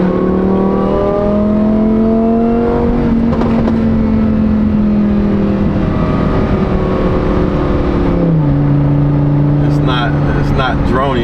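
A Lamborghini Huracan with a race exhaust drones loudly and close with a deep, steady engine tone that shifts pitch as it changes speed, while people talk over it.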